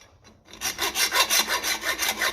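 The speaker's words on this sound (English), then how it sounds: "we'll just slot them with hacksaw" A hacksaw cuts slots into screws for a 1955 Ferguson TE20 diesel tractor, giving about eight quick, even rasping back-and-forth strokes, close and loud after a brief quiet start.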